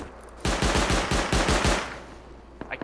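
Loud automatic gunfire in a video game, a tight string of about eight rapid close shots that then trails off into an echoing fade, with a faint click afterward.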